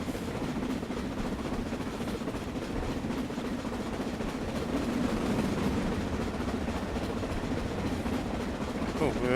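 Onboard a BR Standard Class 9F steam locomotive train in a railway simulation, a steady low rumble of running wheels and rolling stock with rhythmic clatter, continuous and moderately loud, with a voice talking over it.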